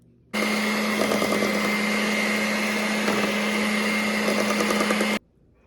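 An electric mixer beats cottage cheese cheesecake batter, a loud, steady whirring drone that runs unbroken for about five seconds and then cuts off abruptly.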